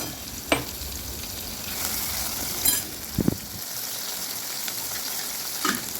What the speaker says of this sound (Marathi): सो तेल गरम झाल्यानंतर आपण जो मसाला बारीक केलेला होता तो टाकून घेतला आहे त्यामध्ये